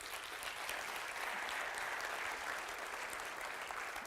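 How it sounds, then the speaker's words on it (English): Steady audience applause at a motivational speaking event for real estate agents, dense and even throughout with no voices breaking through. "That always gets the most claps because I think it's the most true."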